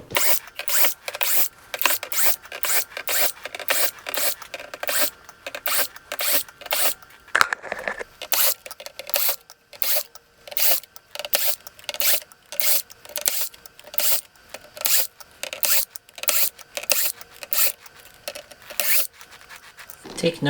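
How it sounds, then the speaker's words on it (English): Silver screws come out of a PS5 console in a sped-up sequence of rapid, evenly spaced scratchy clicks and rasps, close and crisp, continuing steadily throughout. "Alright, so now for the fun part, to take out all of the silver screws"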